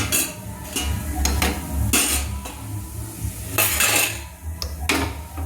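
Whole cumin, a cinnamon piece and cardamom going into oil in a pan for a katla fish curry with coriander paste, heard as repeated metallic spoon clinks and pan knocks over a faint sizzle.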